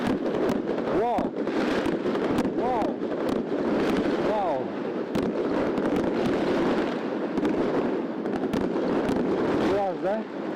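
New Year's night fireworks and salutes over Yakutsk, with repeated sharp bangs and crackling bursts spread through a dense, continuous roar of distant explosions, under excited voices talking throughout.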